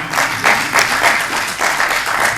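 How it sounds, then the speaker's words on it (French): An audience applauding at a closing ceremony, a dense burst of clapping from many hands that swells in waves, loud and fairly near, with no voices over it. "je voudrais vraiment que nous fassions un banc d'applaudissements pour féliciter nos autorités"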